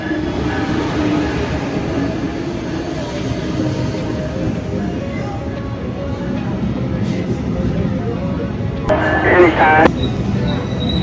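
A train pulling into a station in Bloomington/Normal rumbles steadily with constant low mechanical noise, a brief brighter screech or hiss near the end as it slows, while a voice speaks briefly.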